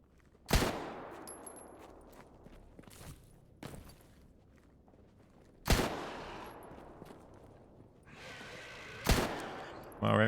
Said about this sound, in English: Let's get to this gunfire.